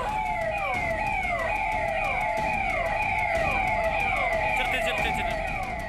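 Police siren wailing in repeated rising-and-falling sweeps, loud and continuous throughout, with a steady road-traffic rumble underneath.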